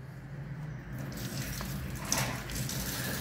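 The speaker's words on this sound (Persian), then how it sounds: "از این ور آب خارج میشه" Water gushing and running steadily from the opened fill valve beneath a wall-hung central heating boiler as system pressure drops, a continuous moderate hiss with a brief splash midway.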